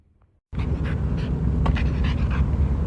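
A dog pants hard and steadily, loud and close, in quick rhythmic breaths after an abrupt start.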